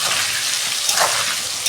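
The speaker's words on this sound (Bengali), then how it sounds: "আমি ঢাকা দিয়ে লাল লাল করে আলুটা ভেজে নেব" Potatoes frying in a lot of oil in a pan for aloo dum, giving a loud, steady, dense sizzle with a brief surge of crackle partway through, close up and with no voices.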